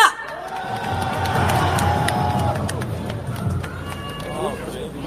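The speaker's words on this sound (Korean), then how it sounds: "큰 함성으로 맞아보겠습니다" A large crowd at a political party rally cheers and shouts loudly and steadily, with whoops and scattered claps, the roar holding for several seconds before easing slightly.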